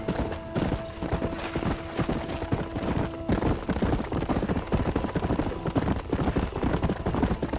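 Horse hooves clip-clop steadily during a ride in Red Dead Redemption, a brisk, even rhythm of close hoofbeats that continues throughout. A faint steady tone hums underneath at first.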